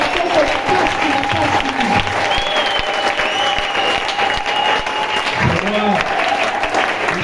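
A church congregation applauding and cheering loudly, dense sustained clapping from a large crowd with scattered shouts and cries running throughout, close and full, under a voice speaking over the noise.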